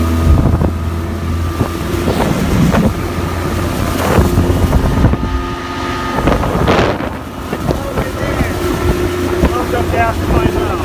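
A Boston Whaler 15 motorboat runs on Lake Powell, loud and steady with its engine drone under heavy wind buffeting and water noise, and a voice talks briefly over it.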